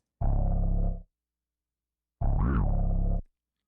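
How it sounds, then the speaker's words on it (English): Two heavy, buzzy bass notes from a music sample with gritty distortion from the Soundtoys Decapitator plugin, each lasting about a second, separated by silence, the second bending in pitch. "I added Soundtoys Decapitator plugin to add a little bit of distortion to it."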